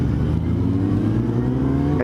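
Honda Hornet 600 motorcycle engine revving loudly up close, a steady droning roar that climbs in pitch toward the end of the short burst.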